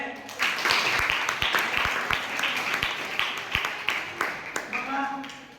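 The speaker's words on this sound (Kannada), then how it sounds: "ಜೋರ ಚಪ್ಪಾಳೆ" A classroom of students applauds loudly during a school lesson on volleyball, a sustained burst of mixed hand claps with sharper individual claps standing out, fading slightly toward the end.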